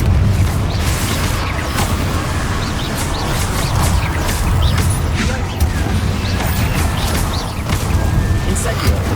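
A Confringo blasting spell in Hogwarts Legacy goes off amid a dense, continuous wash of booming, crackling spell effects and rumbling combat noise, loud throughout, with a voice speaking over it.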